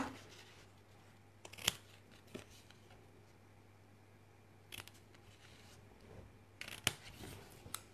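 Scissors snip a small square out of paper for a handmade card-pocket, giving a few faint, crisp cuts spaced apart against quiet room background.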